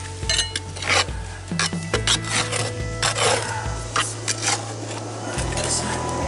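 A garden hook scrapes packed grass clippings out of a lawn mower deck, giving repeated close, rough metallic scrapes and knocks in an uneven rhythm over a steady low engine-like hum.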